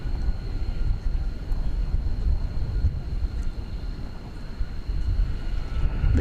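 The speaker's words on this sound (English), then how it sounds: "The 7879 Dreamliner going to Sydney." A Qantas Boeing 787-9 Dreamliner bound for Sydney rumbles at DFW Airport at night, a heavy low-pitched jet engine roar that stays steady and fairly close throughout.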